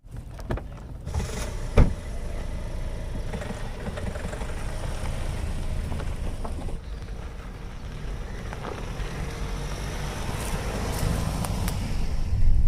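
A Kia Seltos with about 100,000 km on it and low pick-up, driven on a test run: steady road and engine rumble from inside the cabin, an early clunk and some rattles, no talking.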